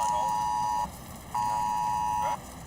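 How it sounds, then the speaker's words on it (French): Mobile phones blare a tornado warning alert, two long steady loud electronic tones separated by a short gap, inside a vehicle during a storm chase in a supercell zone, with no speech over it. "nos cellulaires émettent l'alarme qui indique que nous sommes dans une zone à risque"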